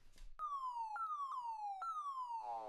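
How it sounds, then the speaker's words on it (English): Electronic space drum pad from an iPad music setup fires four descending pitched pew hits in a steady rhythm, each a bright falling tone with strong harmonics, close and loud with no talking. "So I did build a groove around the sound of this super space drum."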